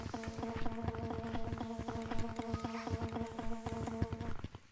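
Bee cosmetic in the game Gorilla Tag, a steady buzzing drone with a clicking, pattering rhythm that fades out at the end.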